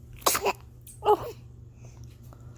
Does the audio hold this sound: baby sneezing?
yes